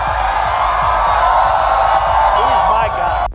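A crowd at a Donald Trump campaign rally cheers and whoops loudly and continuously, a dense roar of voices with scattered shouts rising over it.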